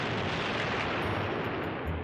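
Gunfire from the Robotech: Sentinels animated series plays as a continuous dense roar of shots and blasts, steady and fairly distant-sounding at low level, with no speech.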